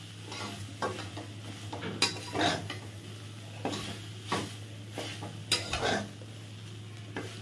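Fried neem leaves stirred into eggplant curry in a pan, giving a run of scraping, clinking spoon strokes over a steady low sizzle, close and moderately loud.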